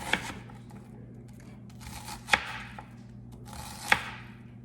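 A knife dices onion on a cutting board in three sharp, spaced chops that stand out over a low background hum, with faint rustling between them.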